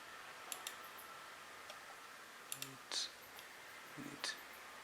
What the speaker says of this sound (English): So you click on it.